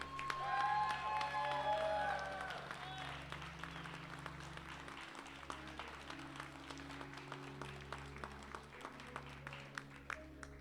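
An event audience keeps applauding the HEX Invitational tournament champion, dense clapping that is loud at first then thins to scattered claps over steady background music.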